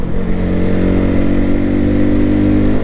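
A motorcycle rides steadily along a road, its mid-pitched engine humming loud and close with a constant, even drone and no talk over it.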